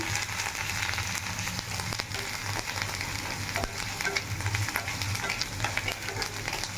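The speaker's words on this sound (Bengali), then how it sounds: "এদিকে আমি আদা রসুন বাটাটা দিয়ে দিলাম। এবার দিয়ে ভালো করে লো ফ্লেমে আস্তে আস্তে করে ভাজতে হবে।" Ginger-garlic paste frying in a pan on a low flame, giving a steady, close crackling sizzle that holds evenly throughout with no talking.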